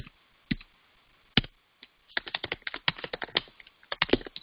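Someone types on a computer keyboard up close, a few isolated key clicks giving way to a fast, irregular run of clattering keystrokes.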